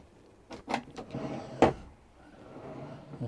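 Drawers in a motorhome kitchen slide open and shut, giving a few quick wooden knocks and one sharper thump, close by in a quiet interior.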